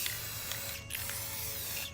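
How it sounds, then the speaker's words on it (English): An aerosol spray paint can hisses in a steady, close burst over artificial roses, with a brief pause partway through as the nozzle is released and pressed again. "so I've spray painted the roses"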